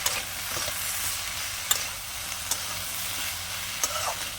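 Chili and turmeric powder fry with pumpkin greens in a pan, a soft even hiss broken by a few faint clicks of stirring.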